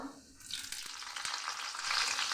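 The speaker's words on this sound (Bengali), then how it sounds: "কড়াইয়ের মধ্যে দিয়েছি একটু সাদা তেল দিয়ে দিচ্ছি কালো জিরে দিয়ে দিচ্ছি কাঁচা লঙ্কা চেরা" Black cumin seeds and slit green chillies hit hot white oil in a kadai, bursting into a loud, steady crackling sizzle that keeps building, with no voices.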